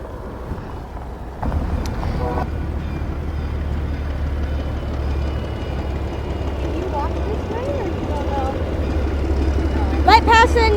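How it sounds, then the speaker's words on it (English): A White Pass & Yukon Route standard cab locomotive switches around a station, a low steady diesel rumble throughout with some squeals and metallic clanks toward the end, heard under wind and outdoor ambience. "we would usually see one of the standard cabs switching around in the station helping out trains, like we see here"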